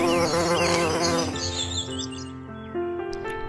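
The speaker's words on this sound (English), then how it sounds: "While tasting the nectar, the honeybees brush against the anther, collecting pollen grains on its surface." Honeybees buzz around sunflowers while collecting nectar, making a loud, close, continuous droning hum that rises and falls as they move. Bright bird chirps ring out in the background.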